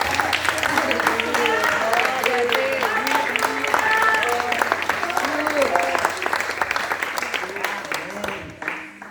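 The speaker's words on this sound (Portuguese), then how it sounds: "vamos aplaudir a Deus." A church congregation at a Friday service applauds loudly and continuously, dense clapping with voices shouting and singing over it before the noise eases slightly toward the end.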